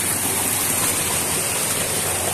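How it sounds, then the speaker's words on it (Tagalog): Tall Banahaw waterfall dropping straight down, a steady dense roar of falling water filling the scene without a break, close and loud. "Yung falls na to, diretso din siya, mataas siya"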